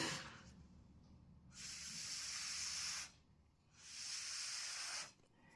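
Two long, steady hissing bursts of air blown across wet gel stain paint, separated by a short pause, close and fairly loud.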